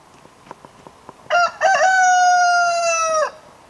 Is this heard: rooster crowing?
yes